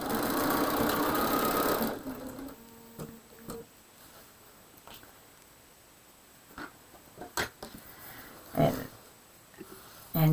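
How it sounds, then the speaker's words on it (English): A sewing machine runs slowly across a pinned quilt square, a dense mechanical whir for about two seconds, then fading to quiet handling clicks and scattered taps of fabric and pins. "let me go slowly and get right up to where the pin is and sew that across"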